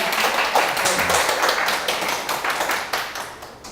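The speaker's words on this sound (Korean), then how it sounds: "일단 박수 한번 주셔야 되죠." Audience applause greeting a Korean political leadership lecture, a steady dense patter of many hands clapping that stays even and moderately loud across its length, with no voices over it.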